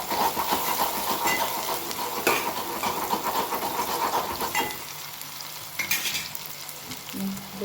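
Curry leaves sizzling and crackling in hot oil, a loud continuous frying hiss with a spoon stirring and scraping the pan, the sizzle easing toward the end.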